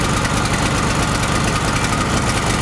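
A petrol generator converted to run on gas idles steadily, a loud continuous close-up engine drone with even mechanical pulsing and no breaks.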